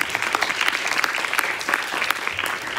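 Brief, lively applause from an audience at a student music workshop show, greeting a pianist as he is introduced, with close individual claps standing out from the crowd.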